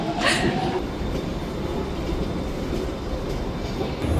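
A subway train in Budapest rumbles steadily and loudly throughout, with rail noise and a brief high squeal near the start and no clear talk.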